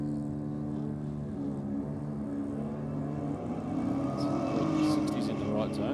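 An Audi drag car launching on a quarter-mile run, its engine roaring steadily and building in pitch as it pulls away, with a commentator talking over it.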